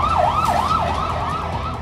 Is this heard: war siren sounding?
yes